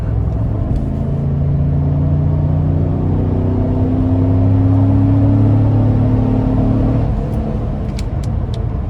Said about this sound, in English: I'm gonna see if I can give myself some space and floor it.